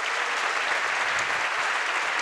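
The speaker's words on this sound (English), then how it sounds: "Give him an applause for the game." A large audience at the SHA2017 hacker camp gives dense, sustained applause for a game developer, a loud even roar of clapping with no talk.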